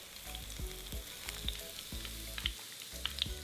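Tofu pieces frying in hot oil until golden brown, a steady close sizzle with rhythmic low thumps and bubbling underneath, no one speaking.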